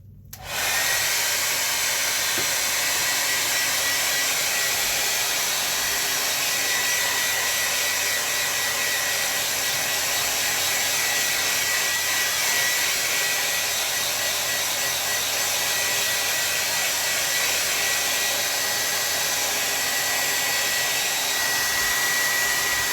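A blow dryer runs continuously at close range, a steady loud whooshing drone drying a watercolor landscape painting, with no talking.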